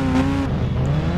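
Car engine in the Indian Bike Driving 3D mobile game revving loudly and steadily up close, a sustained buzzing drone with shifting pitch and no talk over it.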